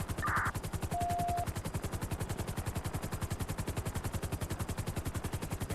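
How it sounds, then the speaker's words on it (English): Rapid, relentless automatic gunfire in the video game GTA 5, a dense stream of close, loud shots running unbroken throughout, with a short electronic tone briefly overlaid near the start. "there are shots fired like crazy"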